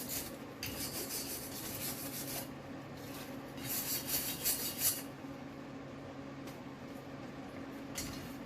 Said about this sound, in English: While I brush some of these welds.